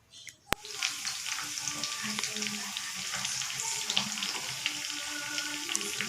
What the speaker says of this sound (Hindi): दोनों साइड से हम फ्राई कर लेंगे अच्छे से।